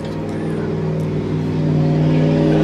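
Passing car with a loud exhaust revving, a steady low droning engine rumble that grows slightly louder over a couple of seconds, heard close and without talk.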